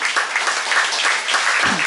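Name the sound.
congregation applauding in church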